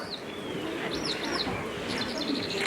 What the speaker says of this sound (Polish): To wyraźnie słychać skowronka.